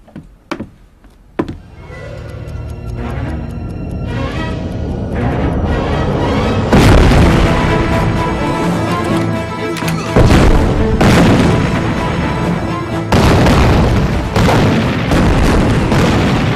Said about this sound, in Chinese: 院子周围发生爆炸